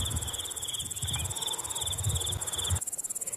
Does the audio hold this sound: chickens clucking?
no